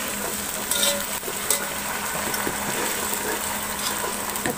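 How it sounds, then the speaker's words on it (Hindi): Ginger garlic paste sautéing with spices in a pan for mutton biryani, a steady soft sizzle and frying crackle running continuously with faint stirring. "अब इसे भी अच्छी तरह से सौते कर लेंगे"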